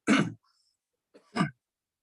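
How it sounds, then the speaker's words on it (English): Two short, close throat clearings from a speaker at a committee meeting, one sharp burst followed by a second about a second later, separated by silence. "Let me clear my throat."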